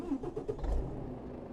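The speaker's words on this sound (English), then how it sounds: "Let's get this truck started." A truck engine starting in Euro Truck Simulator 2, heard as a brief faint cranking turnover that catches into a low, quiet idle rumble.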